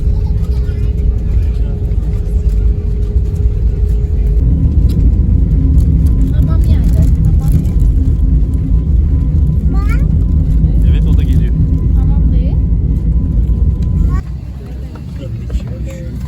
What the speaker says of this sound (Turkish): ilk defa uçak kalkarken uyanık